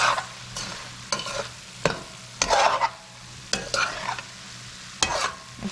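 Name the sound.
shrimps, potatoes and tomatoes frying and being stirred in a pan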